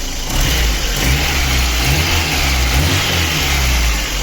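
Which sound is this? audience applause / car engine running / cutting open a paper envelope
car engine running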